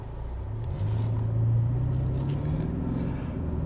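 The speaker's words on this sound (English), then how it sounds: "going to try to do another launch control" A 2022 Hyundai Sonata N Line pulls away under launch control, its front-drive engine building into a loud, steady low rumble and drone that holds for a few seconds without talk.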